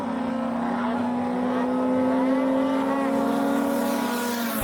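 Honda Civic and turbocharged Toyota Starlet drag racing side by side, a loud sustained engine drone holding steady as both cars pull hard down the strip, rising slightly toward the end.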